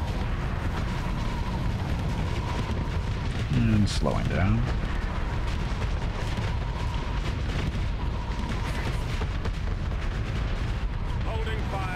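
Ship cannons fire in the Starsector space game: a steady rumbling battle bed with a few heavy booming volleys in the middle, while someone talks over the action.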